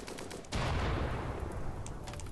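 Inferno cannons fire in the RimWorld Alpha 13 video game on an extreme desert map, a sudden roaring blast followed by sustained rumbling fire and crackling over continuous battle noise.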